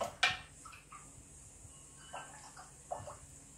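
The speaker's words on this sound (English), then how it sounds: "just stir that into our kefir water here" Water kefir being stirred in a container, a few faint clinks and soft sloshing swirls, one sharper tap near the start, quiet and close.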